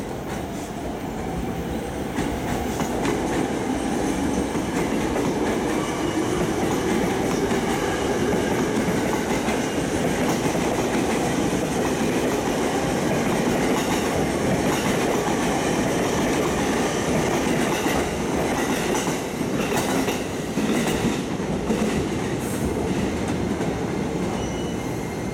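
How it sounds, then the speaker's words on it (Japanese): A JR East Japanese commuter train rolls into the platform loudly with a continuous rumble, wheels clattering and squealing steadily as it slows. "列車到着です。"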